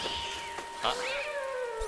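A cat meows in the Spirits and the Mouse video game, a single drawn-out call with a rising then falling pitch over steady game ambience.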